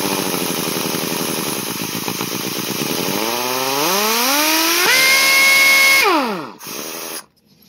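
A 1/2 inch impact wrench with Scotch-Brite stuffed in its exhaust outlet runs loud and whining, ramps up through its speed settings to a high steady pitch, then winds down and stops.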